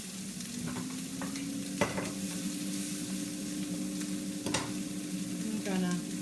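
Meat cooking in a countertop cooker set to 390 degrees for Sunday dinner, with steady sizzling, stirring clatter and occasional sharp clinks throughout, moderately close, no talk.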